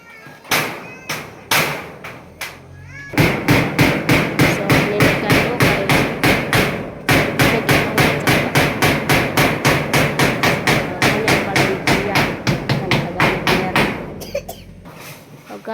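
Hammer blows driving nails and spikes while finishing the roof of a house, a long run of steady, evenly spaced loud strikes, with a few scattered knocks before and after.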